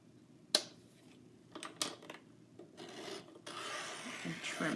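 Paper trimmer slicing paper for a 12x12 scrapbook page layout: a sharp click followed by a few short rasping strokes, then a longer sustained scraping cut near the end, close and fairly quiet.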